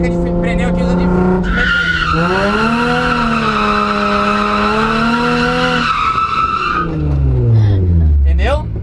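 Nissan 350Z tires squealing in a long sustained skid from too much throttle while drifting, a loud rising and falling screech lasting several seconds amid engine noise, with a voice talking around it.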